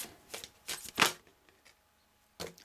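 Tarot cards are shuffled on a cloth-covered table, giving several soft riffling swishes and flicks in quick succession, then a short pause and one more brush of cards.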